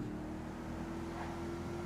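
A car engine in GTA V running on a FiveM server hums steadily at low revs, a continuous idling drone with no talk.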